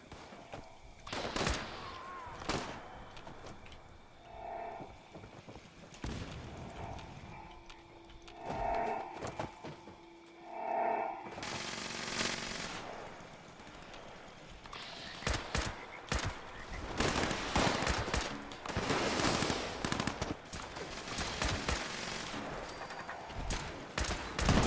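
Rifle gunfire in Fallout 76 comes in repeated sharp bursts and quick strings of shots, with quieter gaps between volleys.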